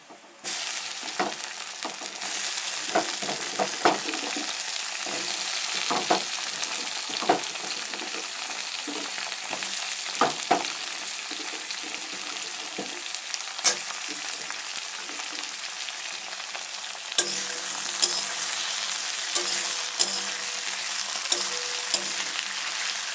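Tomato and potato frying in a pan, a steady close sizzle with stirring clatter and sharp crackles throughout.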